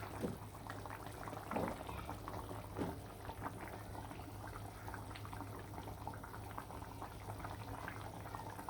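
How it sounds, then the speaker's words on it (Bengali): Beef curry boils in a pot, a low, steady bubbling and gurgling simmer that runs throughout, quiet with a faint background hum. "মাংসটা কিন্তু বলক চলে আইছে"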